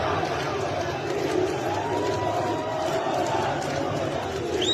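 Protesters march through the streets of an Iranian city, a dense crowd murmur with scattered shouts and bustle holding steady throughout, voices mixed into the moving throng.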